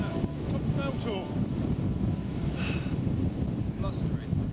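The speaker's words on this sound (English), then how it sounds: "It is blustery." Wind buffets a microphone in rough, continuous rumbling gusts on a hilltop tor on Dartmoor, with a voice speaking briefly underneath.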